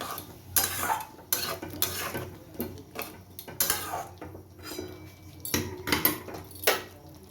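A utensil stirs and scrapes ginger, cumin and chili paste frying in a pan, with repeated metallic clinks and scrapes over a faint sizzle, close and steady, no talking.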